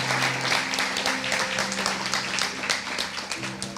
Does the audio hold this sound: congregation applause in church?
yes